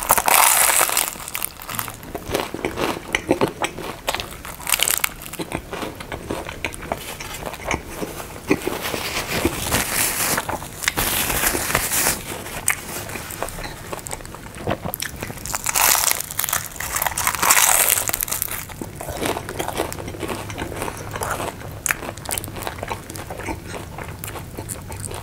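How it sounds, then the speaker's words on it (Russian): Crunchy fish-filled chebureki pastry being bitten and chewed close up, repeated crisp crackling bites separated by quieter chewing, loud and intimate, with no speech. "Необычный чебурек с рыбой"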